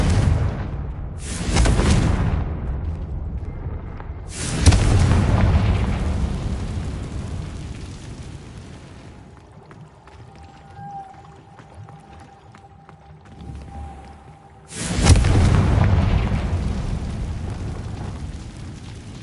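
The Confringo blasting spell in Hogwarts Legacy sets off big booming explosions, loud and near, with a roaring burst that decays into rumbling debris. A quieter stretch with faint ringing follows before another heavy blast hits.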